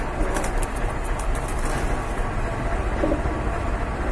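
Pigeons kept in a coop for sale, cooing and stirring close by over a dense, noisy background.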